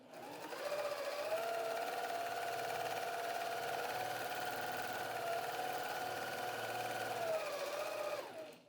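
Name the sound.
sewing machine free-motion quilting, speed controlled by foot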